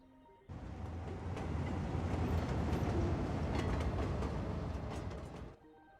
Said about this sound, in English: That was a cargo train.